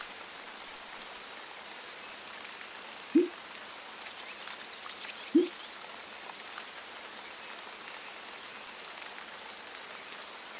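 Steady rain falls on a surface throughout during a cycling stage, a soft even patter with two brief louder knocks midway.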